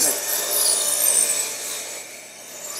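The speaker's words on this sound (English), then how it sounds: "you can hear the saws in the background" A steady, raspy grinding of saws cutting in the background at a building site where wall tiles are being installed, continuous and fairly loud throughout with no breaks.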